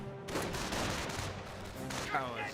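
Gunfire from infantry squads in the World War II strategy game Company of Heroes, a dense ongoing stream of rapid shots and bursts, loud and continuous with battle noise layered throughout.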